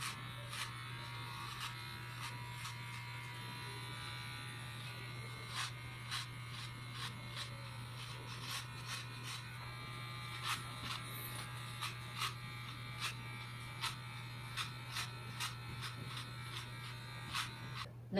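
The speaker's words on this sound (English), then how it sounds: "hair clippers like this. Trim like this." Electric kids' hair clippers trim a child's hair, giving a steady low motor buzz throughout with many brief, crisp snipping crackles as the blades cut, heard close and quiet with no talk.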